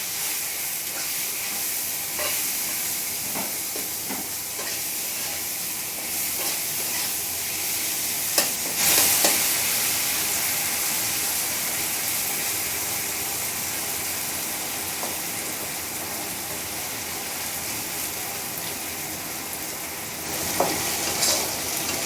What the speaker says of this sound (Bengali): সমস্তটা খুব ভালোভাবে তেলের মধ্যে নেড়ে চেড়ে নেব